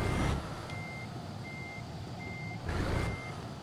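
A Mercedes truck in Euro Truck Simulator 2 reverses with a steady, evenly spaced series of about four beeps over a low engine rumble, with louder engine surges near the start and end.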